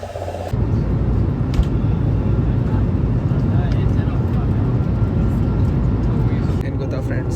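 At a Mumbai airport, the jet airliner a traveller is about to board roars with a steady, dense engine rumble that holds level throughout, with people talking over it.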